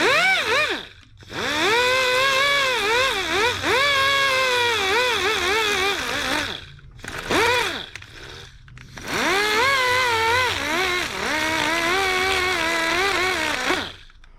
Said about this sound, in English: I decided I'm just going to try the Dremel. Just go really slow.